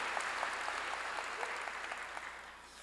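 Church congregation applauding during a sermon, a steady wash of many hands clapping heard from some distance, fairly soft and even throughout.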